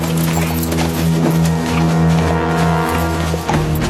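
Horse hooves clip-clopping on the ground in a period drama about Charlemagne, steady and fairly loud, mixed with a droning musical score, no speech.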